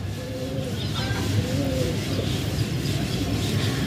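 A pigeon cooing close by, soft low repeated coos over a steady background hum and faint ambient noise, with no talk.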